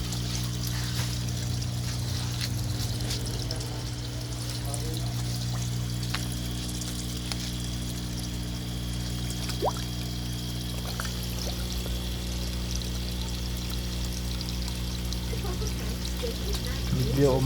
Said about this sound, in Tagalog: Medyo umapaw yung tubig nila kasi napasukan ng tubig ulan.